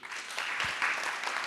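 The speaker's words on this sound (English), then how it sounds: "Let's clap for them." Audience applause for panelists at an investment forum in Perth, Australia: a steady wash of many hands clapping, moderately distant, with no talk over it.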